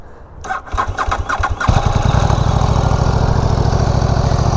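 A KTM RC8 R motorcycle engine cranks with a few quick starter pulses, then catches and settles into a loud, steady, close idle with no talking.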